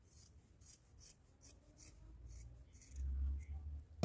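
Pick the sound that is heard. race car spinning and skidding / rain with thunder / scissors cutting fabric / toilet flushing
scissors cutting fabric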